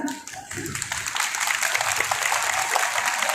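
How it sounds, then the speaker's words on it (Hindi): Students at a school career-motivation seminar break into sustained applause, a dense, loud wash of clapping that builds and carries on for several seconds with no speech over it. "ताली बजाने से मोटिवेशन भी मिलता है, बड़ा अच्छा लगता है, बजाते रहना बीच बीच में"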